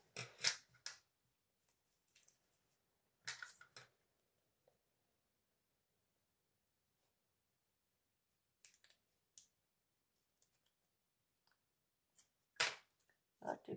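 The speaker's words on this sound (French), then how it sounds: "Hop, que je vais redécouper. Ciseaux, ciseaux, ciseaux" Scissors snip paper for scrapbooking in a few sharp, separate cuts with long quiet gaps between them, near and fairly crisp, as someone talks now and then.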